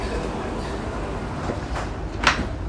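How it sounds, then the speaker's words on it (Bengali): Dubai Metro train doors slide shut with a single brief thud-like rush near the end, heard inside the carriage over a steady hum of train and station noise. "Doors closing."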